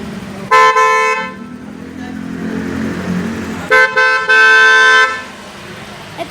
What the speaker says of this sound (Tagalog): Ito po guys, pag nagpapalit ng busina.